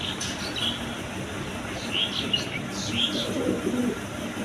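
Jacobin and Maltese pigeons coo softly in a loft, with faint chirps and low murmuring coos over a steady background hum.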